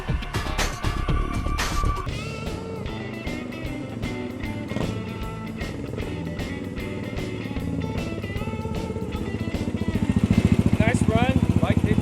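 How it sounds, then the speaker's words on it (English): A rebuilt vintage Yamaha XS650 motorcycle engine runs in rapid, uneven firing pulses, revving up loudly toward the end, close by and with no speech. "Nice run, bike didn't turn off, good power band"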